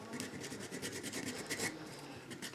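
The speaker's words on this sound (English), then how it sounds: "This section doesn't want to sand much." Hand sanding of a wooden plaque ornament with sandpaper gives a steady, close, continuous rasping rub of repeated strokes, with no pauses and no voices.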